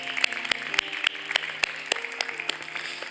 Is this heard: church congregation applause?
yes